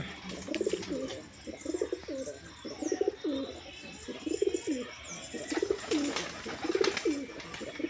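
Tumbler pigeons of the Giribaz breed coo in a steady run of repeated, rolling phrases, several birds overlapping close by, with faint chirps and background hiss behind them.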